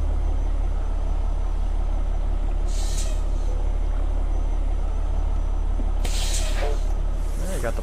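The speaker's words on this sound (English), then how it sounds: "Parking brake in place." In American Truck Simulator, a parked truck's air brake lets out short pneumatic hisses, one brief burst and then a longer double release, over a constant low idling engine rumble.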